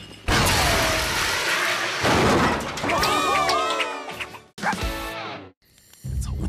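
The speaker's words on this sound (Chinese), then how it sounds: "快点收拾好东西逃跑，它要爆炸了！" A cartoon explosion from a children's rescue-pup show bursts in loud, broadband booms and crashes, with whistling, ringing effects and abrupt cutoffs between the hits.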